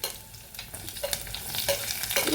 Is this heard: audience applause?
no